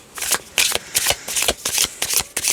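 Tarot cards riffled and shuffled by hand in a series of quick crisp bursts, roughly eight close, loud rustling flurries in an uneven rhythm with no talk.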